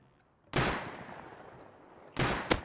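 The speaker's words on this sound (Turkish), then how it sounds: "Bir tane daha vurdum, düştü." Gunfire in the video game Rust: one sharp shot with a decaying echo, then a second shot about two seconds later followed quickly by a third sharp crack.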